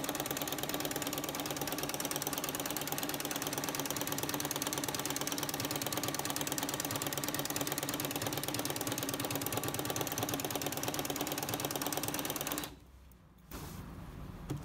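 Domestic sewing machine stitching with a flower presser foot, a steady mechanical ratcheting whir of gears running continuously up close, then briefly slowing and pausing near the end before resuming.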